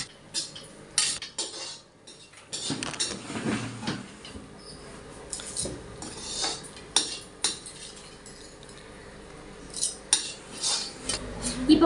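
A utensil scrapes and clinks against a pot while pulicha keerai thuvaiyal is stirred, giving irregular close metallic knocks and scrapes over a quiet background, with no talking.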